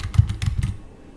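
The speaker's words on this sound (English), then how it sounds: "hit enter button on your keyboard" Quick keystrokes on a computer keyboard at a Raspberry Pi terminal, a short burst of close, crisp clicks ending with a press of the enter key.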